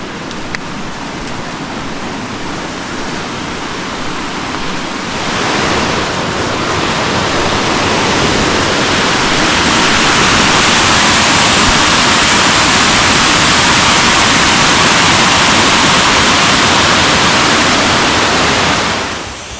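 An unnamed waterfall on the Palmetto Trail, a loud, steady roar of falling water that swells after a few seconds and holds as a broad, continuous rush, close by and alone with no voices.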